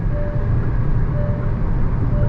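Steady low road rumble and wind rush inside a Hyundai Alcazar 1.5 turbo petrol DCT cruising on the highway at around 110 to 120 km/h, a continuous even drone with a faint whistle, no voices.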